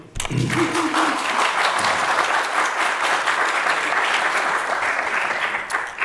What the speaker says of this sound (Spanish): Aplaudid, hombre